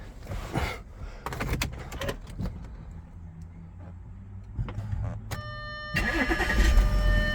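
A 2009 Audi A4 B8 allroad with a 3.0 TDI diesel is started: a few door and cabin clunks come first, then the engine catches near the end and settles into a steady, rising hum with a chime.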